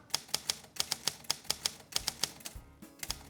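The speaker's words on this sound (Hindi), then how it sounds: "हम दोनों इसी टाइपराइटर पे प्रैक्टिस करेंगे" A manual typewriter clacks out a quick run of sharp, regular keystrokes, with a few brief pauses between bursts, close and clear with no voices.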